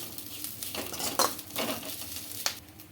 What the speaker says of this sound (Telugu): మనం ఒక 5 నిమిషాలు ఇలానే అప్పుడప్పుడు ఒకసారి కలుపుతూ ఫ్రై చేసుకోవాలండి.